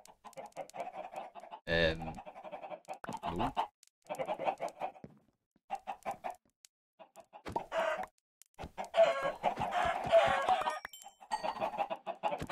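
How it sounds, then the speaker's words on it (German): Chickens cluck in the video game Minecraft, with short bursts of clucking spread across the stretch. A person talks briefly over them and there are occasional game noises. "hier sind nur irgendwie Hühner"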